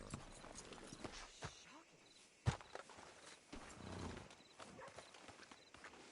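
Quiet clip-clopping horse hooves at a walking pace in a video game, with faint background voices and ambience.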